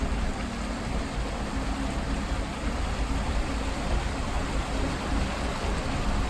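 Periodic spring at Afton, Wyoming rushing with water, a dense, steady, loud roar of gushing flow filling the whole stretch without pause.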